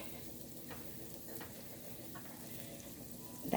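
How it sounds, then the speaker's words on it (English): Onions hit a hot pan for homemade rice pilaf and fry with a faint, steady sizzle and soft stirring scrapes, quiet and close, ending in a brief louder clatter. "I'm going to add my onions now."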